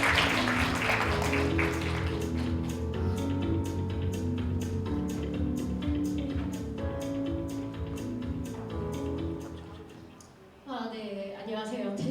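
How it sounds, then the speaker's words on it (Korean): Audience applause welcoming a martial-arts actor and a choreographer onto the stage at a leadership forum, a steady sustained clapping from a large crowd that fades before a speaker begins talking. "뜨거운 박수로 환영해 주시기 바랍니다"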